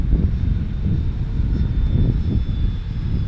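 Freewing L-39 Albatros RC model jet flying in strong wind, a steady whooshing electric ducted-fan roar mixed with wind buffeting on the microphone, continuous and fairly loud.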